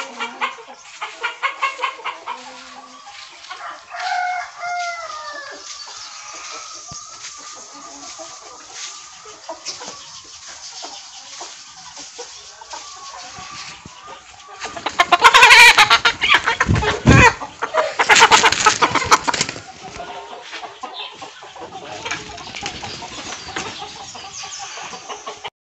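Several African chickens on a poultry farm cluck and call at a moderate distance, with a louder burst of noisy squawking and flapping midway, then quieter clucking again.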